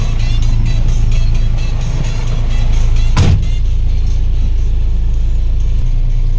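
A fuel tanker truck drives past with a loud, continuous low engine drone, marked by one brief sharp burst of noise midway.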